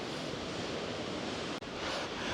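Choppy sea waves along the Orkney coastline, heard as a loud continuous surf roar mixed with wind buffeting and one brief dropout, with no voices.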